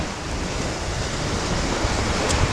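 Surf washing onto Hua Hin beach in Thailand, a steady broadband rush of breaking waves with wind noise against the microphone, continuous and fairly loud with no voices.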